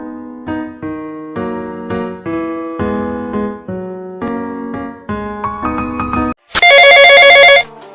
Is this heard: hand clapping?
no